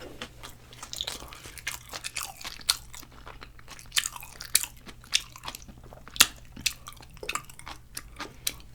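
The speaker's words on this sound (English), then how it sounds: "let's try some of this kimchi fried rice. We'll do it plain first." Kimchi fried rice made with homemade aged kimchi being eaten up close, with repeated crisp bites and wet chewing crunches in an irregular rhythm and no talking.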